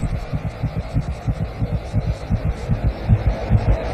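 A hummingbird's heartbeat in the cold Andes night throbs as a rapid, regular low pulse of soft beats over a steady hum, close and prominent.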